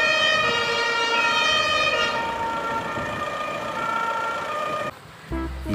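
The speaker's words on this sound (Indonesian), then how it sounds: "Ini ada mobil pemadam kebakaran." A loud, steady electronic toy fire truck siren wailing close by with a tinny, toy-like tone, cutting off abruptly near the end.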